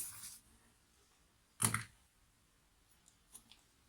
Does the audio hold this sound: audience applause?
no